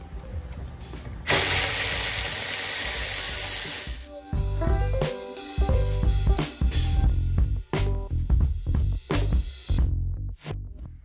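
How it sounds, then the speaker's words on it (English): A 14 mm socket wrench works loose the back seat mounting bolts in a Toyota Prius: a long burst of hissing spray-like noise gives way to a string of quick ratcheting clicks and metallic knocks, close and fairly loud, with no talk. "using a 14 millimeter socket, you will remove the four mounting bolts for the back seats"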